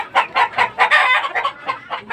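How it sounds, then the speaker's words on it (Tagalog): A hen clucks repeatedly at close range with her chicks, a loud run of rhythmic throaty calls in quick succession, heard in a dim late-afternoon setting. "Yung mga sisiw niyang kanaway."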